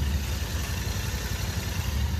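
A Royal Enfield Continental GT 650 twin sits idling after its first service, giving an even, smooth low engine hum with no ticking, steady and close throughout.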